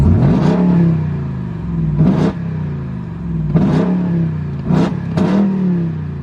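Engine of a 2021 Ram TRX pickup truck revved repeatedly, five loud, close blips that each rise sharply and fall away, with a steady idle rumble between them and no talking.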